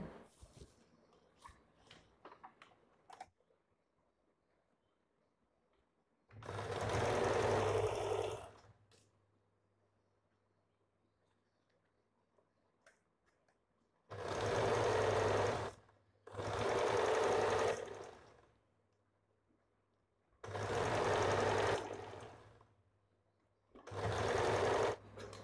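Electric sewing machine stitching a blouse seam, running in four or five loud bursts of steady whirring separated by quiet pauses, with faint handling noises between runs and no talk.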